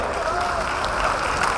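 An audience in a stadium crowd at a community jayanti celebration applauds steadily, a dense continuous wash of many hands clapping at close range with voices faintly mixed in.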